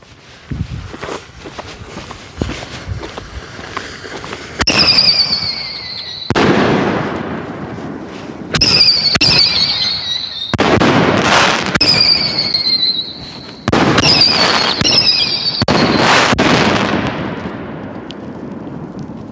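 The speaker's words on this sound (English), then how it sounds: "These are all going to have whistling tails." Fox Fireworks Sonics canister shells launch and burst in several loud rounds, each trailing a rising whistle, with crackling booms and sharp pops repeating over about fifteen seconds outdoors.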